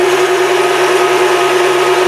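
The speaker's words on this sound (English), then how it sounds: "the recommended mixer speed is 10. So I'll go ahead and turn it up to 10" A KitchenAid stand mixer fitted with a pasta press, its auger turning at speed 10 while making spinach bucatini: a loud, steady motor whine with an unbroken hum and no pauses or voices.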